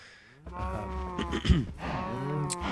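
Several cows mooing in Minecraft, overlapping low drawn-out calls at close range with moderate loudness, no talking.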